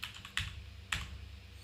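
Keys tapped on a laptop keyboard in a quiet room: a few soft clicks, then three sharper keystrokes spaced about half a second apart, close and faint.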